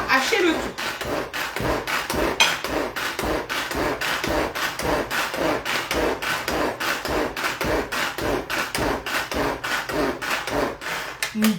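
Electric chopper mincing a beef meatball mixture for teriyaki meatballs, a steady buzzing whir with rapid pulsing rasp running continuously throughout at close range, no voices.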